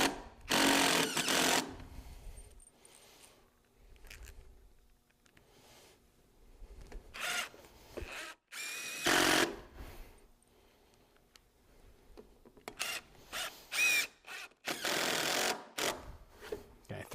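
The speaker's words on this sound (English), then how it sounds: "when you put the screws through the post cap, you do want to make sure that you're putting the screw through the cap" Screws are driven through a pergola post cap in short, loud bursts of a power driver, several separate runs with quiet pauses between them and no talking over them.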